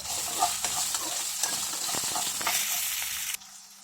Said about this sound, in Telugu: ఒక స్పూన్ ధనియాలు ఒక స్పూను జీలకర్ర వేసుకొని బాగా వేపేసుకోవాలి ఇందులోని అల్లం ముక్కలు వేసేసుకొని వేపుకోవాలి